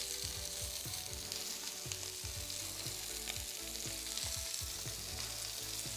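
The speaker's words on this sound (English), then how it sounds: "You can almost see the peppers start to jump up. They've got that sizzle, that mark from them." Peppers sizzle and crackle in a frying pan, a dense, steady frying hiss with scattered pops and small jumps, fairly quiet and continuous, with no voices.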